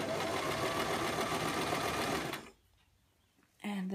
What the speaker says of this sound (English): I will then begin to sew the first ruffle to the first connector.